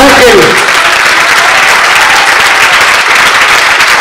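After a theatre workshop performance, an audience bursts into loud, dense applause that stays continuous and close throughout, with a voice briefly audible at the very start.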